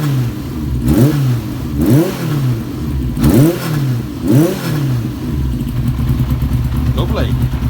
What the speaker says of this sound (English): Exhaust is rattling a bit